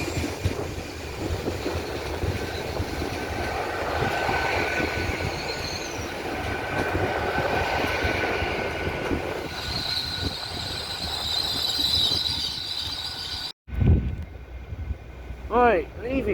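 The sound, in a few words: Great Western Railway class 802 train departing Taunton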